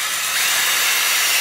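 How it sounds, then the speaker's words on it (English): A power drill boring holes through a plastic plunger for a homemade washing machine agitator, heard as a steady, loud high-pitched whir and hiss that holds without a break, with no voices. "we need to drill holes throughout this plunger"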